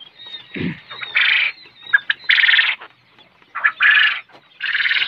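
Caged quail calling in repeated short, bright bursts, several birds chattering close by with brief pauses between calls.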